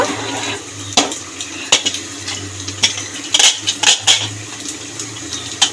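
A pressure cooker being taken off the stove after cooking arum stalks, with a series of loud metallic clanks and knocks of pots and utensils close by, alongside faint running water.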